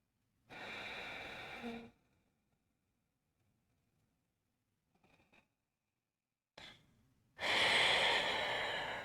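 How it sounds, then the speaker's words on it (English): Slow yoga breathing with two distinct long breaths, one near the start and a stronger one at the end, separated by near silence and a faint rustle. "Let's say 3 more breaths."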